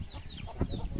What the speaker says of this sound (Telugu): ఈ పుంజును బాగా పందెం పుంజును తీసుకొచ్చారండి